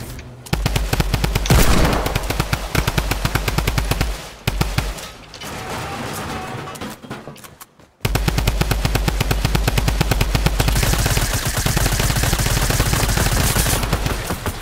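Suppressed submachine gun and assault rifle fire in the Fortnite battle royale video game, a long run of rapid, loud automatic bursts with a brief lull midway, then sustained firing again.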